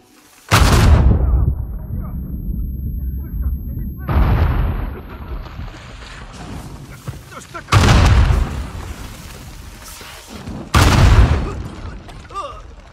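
Explosions in the video game Uncharted 4: four loud, heavy booms spaced several seconds apart, each fading into a rumbling tail, with voices talking between them.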